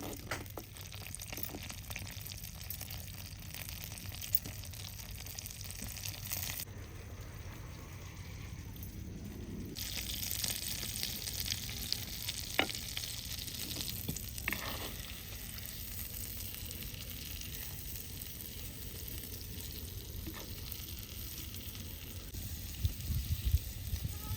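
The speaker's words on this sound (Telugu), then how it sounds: "పన్నీర్ని అయితే ఒక 2-3 మినిట్స్ బటర్లో మంచిగా ఫ్రై చేసుకున్నాం." Paneer frying in melted butter in a pan, a steady close sizzle with scattered scrapes and clinks of stirring and a short break in the middle.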